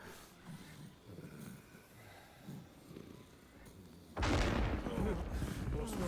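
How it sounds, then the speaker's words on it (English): An explosion in the video game Crimson Desert bursts in suddenly after a stretch of low rumbling ambience, then holds as a loud, broad roar that fills the remainder. "Okay, so we have an explosion."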